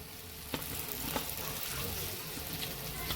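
Chopped tomatoes hit a pan of crab curry with coriander powder and fry with a steady, close sizzle, with a couple of sharp stirring knocks against the pan.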